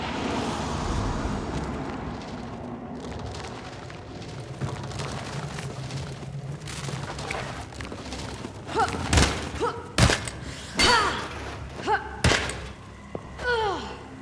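Sharp gunshots in the game Hunt: Showdown ring out through the last few seconds, several loud cracks, each with a short echoing tail, after a long stretch of quieter ambient game noise.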